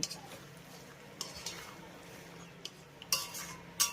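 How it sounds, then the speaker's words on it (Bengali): A spoon scrapes and clinks in a pan as fried potatoes are mixed into cooked spice masala for a vegetarian aloo dum, with a few sharp knocks against a quiet background. "আলুগুলোকেও মশলার সঙ্গে একবার ভালোভাবে মিশিয়ে নেব"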